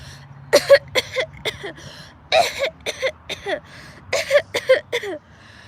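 A man imitates an exaggerated fake cough, a string of short forced throaty bursts and throat-clearing sounds in uneven clusters, close and fairly loud.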